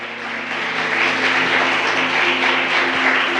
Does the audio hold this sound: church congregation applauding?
yes